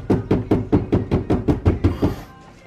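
A bent car headlight bezel on a 300ZX being hammered back into place during a V8 swap: about ten sharp metallic knocks in a steady quick rhythm, close and loud, fading to quiet at the end.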